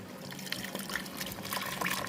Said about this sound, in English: Alright, now we add the coconut cream.